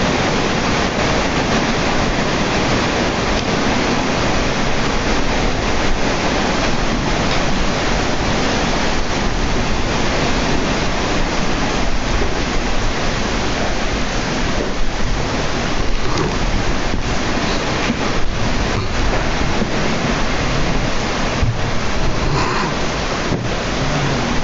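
Heavy rain pours in a steady, dense roar of hiss and patter that never lets up for over twenty seconds, close and loud with no voices over it.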